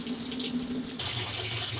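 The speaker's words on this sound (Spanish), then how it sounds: "Vemos que aquí se empieza ya a llenar con nuestra agua caliente que le hemos seleccionado." An LG Inverter Turbodrum washing machine fills with hot water, a steady rushing, gurgling flow that shifts in tone partway through and continues alone without voices.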